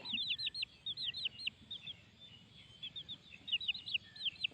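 Two young chicks without a mother hen peep insistently, calling out in repeated high, shrill chirps that come in quick bursts close to the microphone, with short pauses between them.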